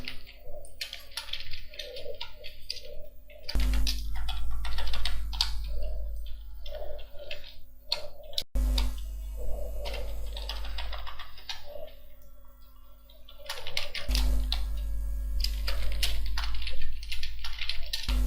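Fingers typing data on a computer keyboard into an Excel spreadsheet, a steady run of quick, close key clicks that keeps going without a break. Faint steady hum underneath.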